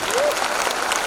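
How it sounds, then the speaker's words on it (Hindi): An audience at a business presentation applauds, a steady burst of clapping from a crowd filling the room. "ये हमारे डायरेक्टर्स के लिए ताली बजाइए प्लीज"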